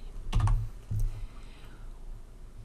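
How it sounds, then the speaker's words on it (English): Typing on a computer keyboard, two short clusters of soft keystrokes close by, then quiet room tone. "then type in your last name"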